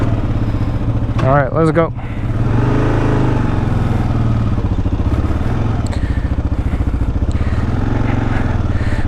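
A Kawasaki KLR 650 dual-sport motorcycle, a Japanese bike used by the United States Armed Forces, rides with a steady, close engine drone throughout, and someone speaks briefly near the start.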